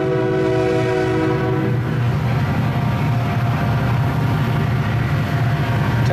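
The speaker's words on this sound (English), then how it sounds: "there's a train passing by now, so you may not hear me too well" A train rumbles past close by, loud and continuous, with a long horn blast at the start over the steady roar of the passing cars.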